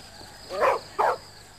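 Dog giving two quick, sharp barks close by, separated by a short gap, over a faint steady background hum.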